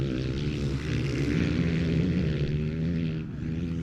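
Enduro model motorbikes racing in a parents' race give a loud, sustained engine drone with a strong harmonic whine that swells slightly and then eases, heard up close without commentary.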